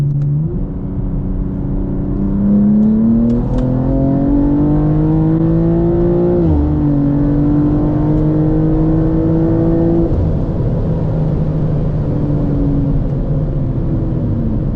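A BMW M2 (G87), tuned to 800 hp, revs hard and climbs through the gears, loud and close, with rising whine between brief shift dips.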